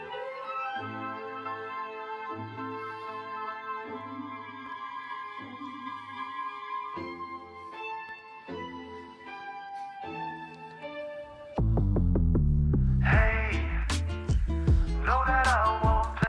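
Melodic synth chords play, then a sudden, louder section hits with punchy, heavy bass, a sharp musical drop.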